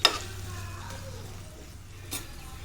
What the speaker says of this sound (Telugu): దుంపలు అయితే వేసానండి, బంగాళదుంప ముక్కలు కోసేసి. ఇవి కొంచెం మగ్గుతుంటే